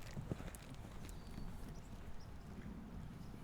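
A horse canters in a riding lesson, its hooves thudding in a soft, rapid rhythm on the ground, faint and somewhat distant against low background noise.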